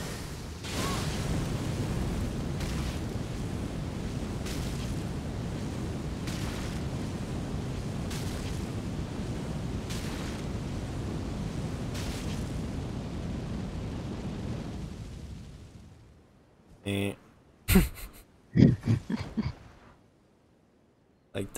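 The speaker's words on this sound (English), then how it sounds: "Fire spells." Fire incantation spells cast in the video game Elden Ring roar in a sustained, dense rush of flame and blasts for about fifteen seconds, then cut to near silence broken by a few sharp separate bursts.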